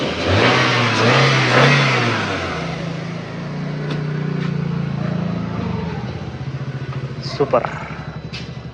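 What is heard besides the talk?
engine started and revving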